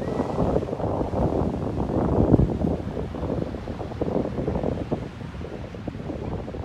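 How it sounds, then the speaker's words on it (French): Strong wind buffets the microphone in a continuous low rumble, with a faint wash of sea in the background. "Bon, aujourd'hui il y a beaucoup de vent."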